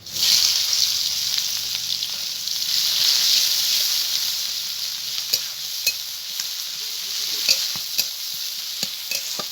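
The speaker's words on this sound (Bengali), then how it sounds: "আমি ফোড়নে দিচ্ছি কালো জিরে এখন যে পেঁয়াজ কুচি দিয়ে দিচ্ছি" Chopped onion sizzling loudly in hot mustard oil with a black cumin tempering, a constant close hiss broken by sharp ticks and stirring clatters throughout.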